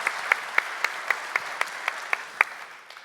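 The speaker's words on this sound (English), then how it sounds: "If everyone would give a round of applause for all the volunteers," Sparse, steady claps ring out at an even pace from a conference audience at DevOpsDays KC 2019, like a small group or a few people applauding at a moderate distance.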